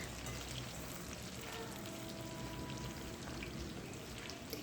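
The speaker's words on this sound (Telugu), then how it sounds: "ఈ చికెను బాగా దోరగా గోల్డెన్ కలర్ వచ్చేలాగా ఫ్రై చేస్తే సరిపోతుంది" Bone-in chicken pieces deep frying in hot oil for Telugu chicken pickle (pachadi), giving a steady, even, close sizzling hiss with faint crackles and no talking.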